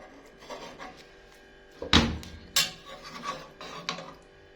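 Knife cutting through soft homemade colostrum cheese (sarsoub) from a newly calved cow's first milk, with a few sharp close knocks and scrapes against a plate amid light handling rustle.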